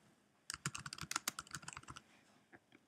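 A quick burst of computer keyboard typing while editing an Excel spreadsheet: a rapid run of light, close keystrokes, then a pause and a couple of final taps, quiet and without speech.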